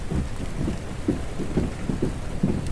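Steady rain falls outside a library, a continuous soft patter layered with low rumbling thuds, heard at a moderate distance with no voices.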